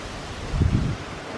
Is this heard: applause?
no